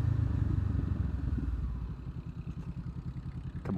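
A Ford Mustang engine burbles at low revs, a close, rumbling, pulsing idle that fluctuates steadily throughout, with no one speaking.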